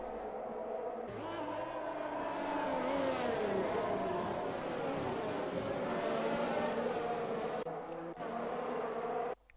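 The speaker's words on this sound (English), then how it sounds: "Jim Bobster now accelerates away down the main straight" An F1 race car in a racing video game at the Chinese Grand Prix accelerates down the main straight, its engine note climbing steadily in pitch under commentary, then cutting off near the end.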